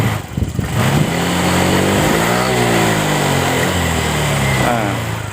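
Honda Vario scooter engine with a fault revving loudly up close, the steady harmonic whine rising and falling as the throttle opens and hesitates at high revs, holding a continuous drone throughout.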